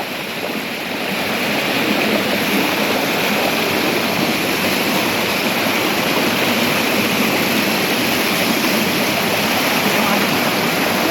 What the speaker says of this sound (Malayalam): എന്താ വെള്ളച്ചാട്ടം